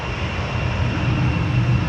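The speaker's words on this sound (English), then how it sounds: "There's a plane taking off." An airplane taking off at the Kansas City airport, heard from a nearby hotel as a steady, loud engine roar that fills the whole stretch.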